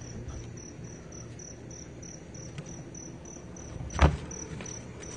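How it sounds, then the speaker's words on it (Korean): Crickets chirp at night on a rooftop in a steady, high, pulsing trill that runs continuously in the background, interrupted once by a brief nearby clunk. "와, 귀뚜라미 소리 오렁찬 거 보소."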